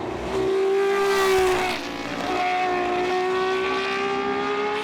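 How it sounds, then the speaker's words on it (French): A Matra MS 650 racing car's V12 engine howls loudly at high revs at Spa-Classic 2023, its pitch rising, dipping briefly with a gear change, then climbing again. "Pour le plaisir des oreilles, refermons le chapitre du CER1 avec la Matra MS 650 et son moteur V12"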